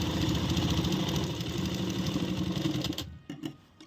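A sewing machine runs steadily while stitching a kurti seam, a dense continuous mechanical whir that stops abruptly near the end, followed by a few brief clicks and handling sounds.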